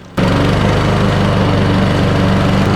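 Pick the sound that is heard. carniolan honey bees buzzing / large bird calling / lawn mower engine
lawn mower engine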